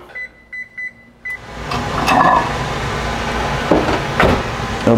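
A microwave oven finishes heating oats with water and gives four short beeps, followed by a door opening and close clattering of a bowl and kitchen handling.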